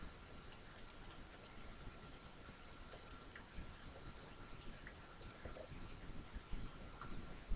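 Fingers tap steadily on a computer keyboard, a quiet, close patter of clicks with occasional louder keystrokes.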